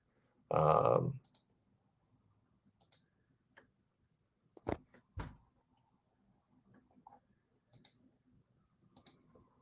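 Sharp, isolated computer mouse clicks sound while a market order is placed on a trading screen, scattered singly and in pairs over a quiet background, close and crisp.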